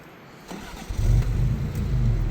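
An older car in the Arizona mountains has its starter cranked: a quiet lead-in, then a low, loud engine rumble rises and holds steady, close by, with no talk.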